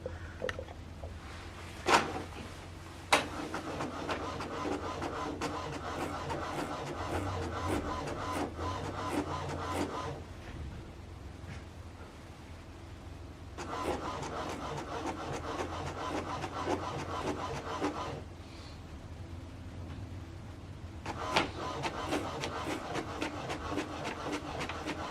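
An HP DeskJet 3700-series inkjet printer runs a print job, its carriage sweeping back and forth in repeated whirring passes with brief pauses and a few sharp clicks, close and steady throughout.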